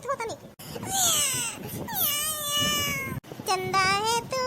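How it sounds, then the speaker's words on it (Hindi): A cartoon cat meows repeatedly in long, drawn-out wailing cries, loud and close, with short breaks between calls. "तुम तो बहुत ही म्याऊं म्याऊं करत हो"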